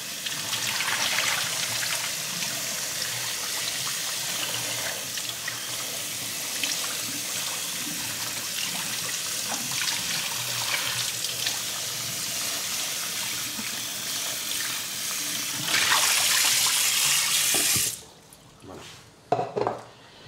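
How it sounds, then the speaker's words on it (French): Cold tap water runs steadily over a cooked sweet potato in a kitchen sink, a loud continuous rush that swells near the end before cutting off, followed by a few light clinks. "Je vais la mettre à rafraîchir sous l'eau froide pour pouvoir l'éplucher un peu plus facilement."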